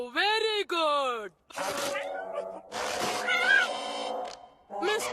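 A cartoon cat gives a clear, drawn-out meow with a rising and falling pitch, then further cat-like cries and animated character voices follow close up.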